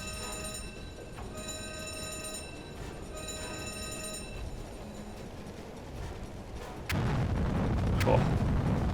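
A ship explodes in the U-boat game Uboat: rumbling explosions boom out, with scattered cracks over a droning hum, then a heavier blast surges louder near the end.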